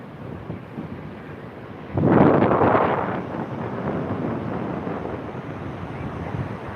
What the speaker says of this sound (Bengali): এই সমুদ্রের ঢেউ দেখুন